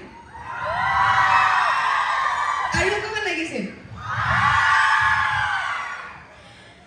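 A lively crowd whoops and shouts loudly in two long waves, with a voice speaking briefly in the lull between them.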